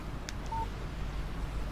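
A short electronic beep of a text message notification on a phone in the Alan Wake video game, a single brief tone with a faint click just before it, over quiet background ambience.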